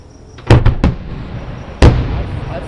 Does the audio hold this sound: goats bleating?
no